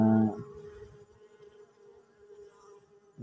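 Apis cerana bees hum and buzz around their hive in a steady, fairly faint drone after a brief louder burst at the start, with no one speaking.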